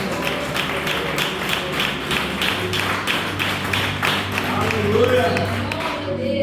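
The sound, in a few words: congregation clapping hands in church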